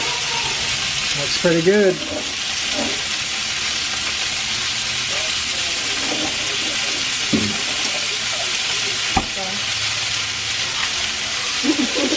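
Gyoza fry in a cast iron pan with a steady, bright sizzle that hisses continuously close by, while people talk briefly over it.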